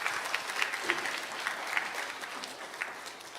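A church congregation at an evening Methodist revival service applauds the choir: steady, moderately faint clapping from many hands, sustained for several seconds with no voices over it.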